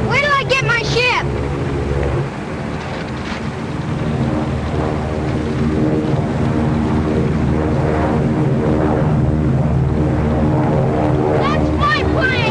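A 1939-era propeller airplane drones steadily at an airfield, a loud sustained engine roar with harmonic whine beneath shouting voices and dramatic film sound.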